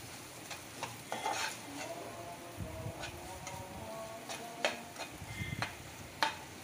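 Egg and mixed vegetables sautéing in a pan for chicken noodles, with a soft continuous sizzle under repeated clattering stirs and scrapes of a spoon against the pan, fairly quiet and close.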